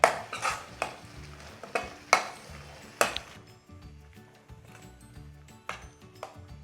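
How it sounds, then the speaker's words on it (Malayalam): Blended tomato sautéed in a pan over a medium flame for a Kerala-style okra tamarind curry, with a spoon scraping and stirring in several sharp strokes over a soft, steady sizzle. "മീഡിയം ഫ്ലെയിമിൽ വെച്ചിട്ട് തന്നെ നന്നായി ഒന്ന് വഴറ്റി കൊടുക്കാം"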